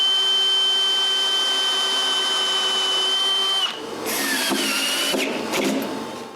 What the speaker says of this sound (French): je visse ça sur la table de ma CNC